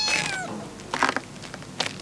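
A cat meows several times in a row, close and fairly loud, with short rising and falling calls separated by brief pauses.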